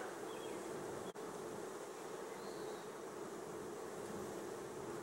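Honey bees buzzing steadily around an open hive during a beekeeper's inspection, a dense, continuous hum close by with an even, unbroken texture throughout.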